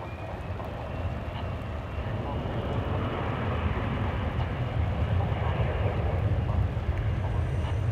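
A Viva Aerobus airliner in a special livery moves at Dallas Fort Worth International Airport, giving a steady, broad jet rumble that holds at an even, moderate level throughout.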